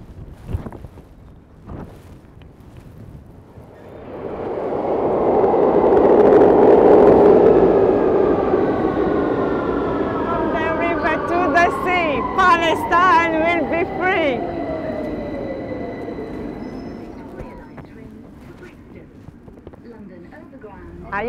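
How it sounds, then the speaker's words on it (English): A train pulls into a station: a rumbling roar swells and holds, then long high metallic squeals slide downward as the brakes bite, with a crowd murmuring faintly around it. "I can feel that the next train is coming."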